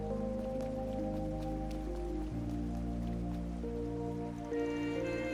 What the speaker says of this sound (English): that's a mighty hard downpour to come just out of nowhere